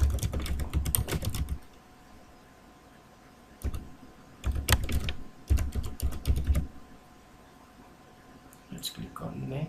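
An administrator password typed on a computer keyboard, quick clustered bursts of key clicks up close, separated by short pauses and ending with a few scattered presses.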